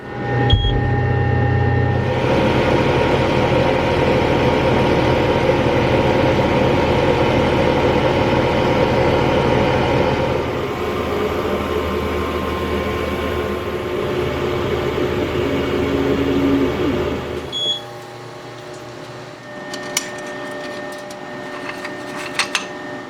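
A laser cutter set to 85% power and speed 12 runs with a steady mechanical hum and whir that shifts in tone partway through, then stops near the end, leaving a few faint clicks and beeps.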